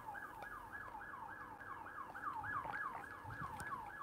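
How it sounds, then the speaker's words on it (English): A police siren wails outside in a steady, repeating up-and-down pattern, fairly distant and continuous, with faint street rumble underneath and no talking. "I think it's just police sirens."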